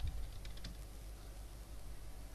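Typing on a computer keyboard: a quick cluster of soft key clicks at the start, then faint scattered taps over a steady low hum of room noise, with no speech.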